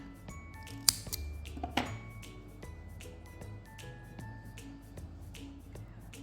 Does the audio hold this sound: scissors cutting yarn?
yes